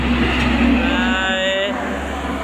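A Hino 500 truck passes along a busy Indonesian road with a loud, low engine rumble and a rising whine, while someone talks over it.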